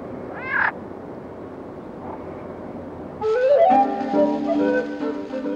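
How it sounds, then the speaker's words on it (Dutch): A green frog croaks in a wetland: a short rising call near the start, then after a quiet pause a loud, sustained burst of harmonic croaking fills the second half, close and clear. "Een groene kikker."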